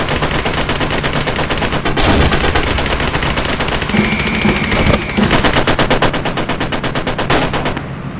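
Sustained bursts of machine-gun and rifle fire from many shooters in the WWII Online video game, loud, dense rapid volleys over about eight seconds with brief lulls between salvos, no talk over it.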